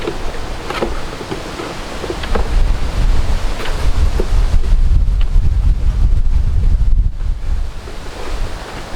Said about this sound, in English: This wind has been ridiculous all day long.